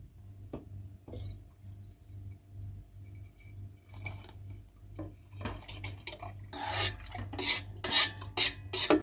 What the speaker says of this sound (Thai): เราจะเทน้ำลงถังหมักไปก่อนเลยค่ะ